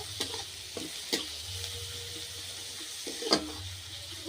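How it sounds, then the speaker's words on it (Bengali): Onions frying with turmeric and salt in a pan, a soft steady sizzle broken by several sharp clicks of a spatula stirring, close but fairly quiet, no voices. "তারপরে পেঁয়াজগুলি একটু ভেজে নেব"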